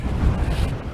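Strong wind buffets the microphone at a wild camp by Angle Tarn, a loud, low, continuous rumble with gusty fluctuations.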